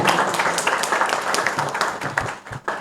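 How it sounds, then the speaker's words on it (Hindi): Lively crowd clapping at the opening ceremony of the 2022 Markhor T-10 Champion Trophy cricket event, a dense, close burst of many hands that rises and falls in brief surges. "एक दफा मार्कोर के लिए भरपूर तालियां।"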